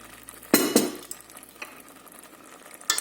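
A spoon stirs peppers in oil in a cooking pot, with two sharp clinks of utensil against the pot near the start, a faint sizzle between and another clink at the end.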